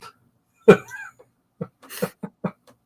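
A single sharp cough, followed by a few short, quieter vocal bursts.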